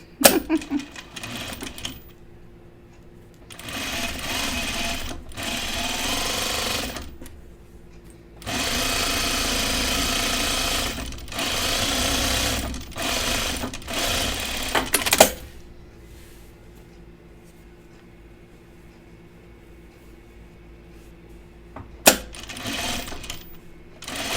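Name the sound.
sewing machine stitching down a shirt placket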